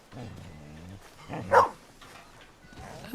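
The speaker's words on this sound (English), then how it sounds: "I heard a dog." A bluetick coonhound in the Red Dead Redemption 2 game world gives a single mid-distance bark, preceded by faint voices and a brief whimpering tone, with quiet ambience around it.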